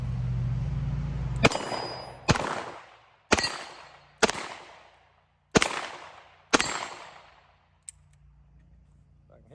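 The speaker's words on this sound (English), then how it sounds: "So we'll just stick some of this Tula steel case cheap ammo in here and see how it does with double action." A Smith & Wesson Model 19-4 .357 revolver firing Tula steel case ammo in double action sends out six loud, evenly spaced shots with ringing decays, followed by a faint metallic click, after brief speech at the start.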